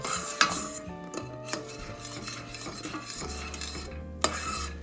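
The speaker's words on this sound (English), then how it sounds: "We're a little over halfway through the 5 minutes of boiling and constant stirring." Metal utensil scraping and clinking against a pot while stirring boiling Christmas crack candy, steady stirring motions, with a low hum in the background and a couple of sharper knocks.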